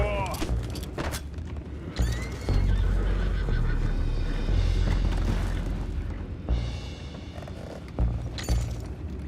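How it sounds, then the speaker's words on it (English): Horses neigh and whinny in the Red Dead Redemption 2 video game, with several loud whinnies over clopping hooves and deep booming rumbles throughout. "Boys, go find out about those horses down below."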